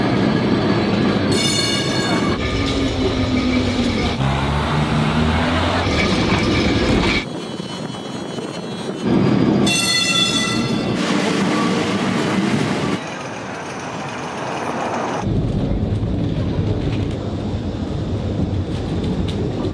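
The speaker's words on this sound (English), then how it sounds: "And now, some tram ASMR." A Lisbon tram runs on its rails, loud and close, with rolling wheel noise, bursts of high metallic squealing, clicks over joints and shifts as it passes, without voices.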